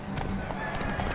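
Galloping horse hooves in a horse race in The Witcher 3, a steady clip-clop rhythm running throughout against a dense, busy game backdrop with some voice mixed in.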